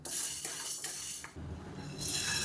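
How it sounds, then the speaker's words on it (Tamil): Dry green gram (moong) is roasted in a pan, with a steady dry rattle and scraping of beans being stirred. Several brief clinks and scrapes come close up, with no talk. "இந்த டம்ளரில் வந்து அரை டம்ளர் அளவுக்கு பச்சை பயிர் எடுத்திருக்கேன் இதை சேர்த்து நல்லா வறுத்துக்கலாம்"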